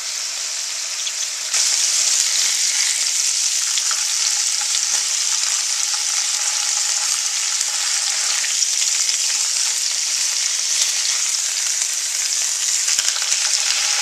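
Pork chops about an inch thick fry in a pan with a loud, dense, unbroken sizzle that jumps up early on and then holds steady without a break.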